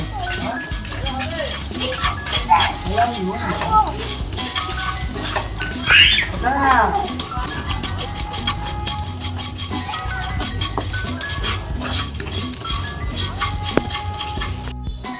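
A spoon clinks and scrapes against a pan as a melted sugar mixture for milk tea is stirred, with loud, busy metallic knocks and rattles running throughout.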